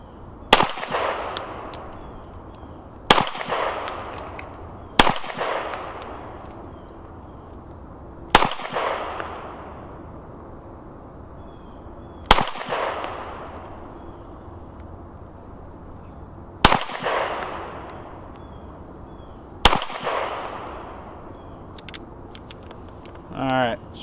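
Nine-millimetre pistol shots on an outdoor shooting range, seven sharp loud cracks spaced a few seconds apart, each trailing into a long echoing decay across open ground.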